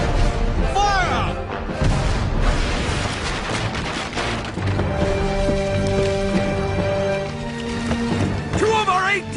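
Cannon fire from 18-pounder guns aboard a sailing warship in battle, heavy booms and crashes amid dense battle noise, with shouting voices throughout.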